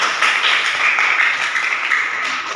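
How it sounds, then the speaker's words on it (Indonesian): A classroom of students claps for a classmate, dense steady applause filling the whole moment, close and loud, with no talking. "Tepuk tangan dulu untuk Anjar."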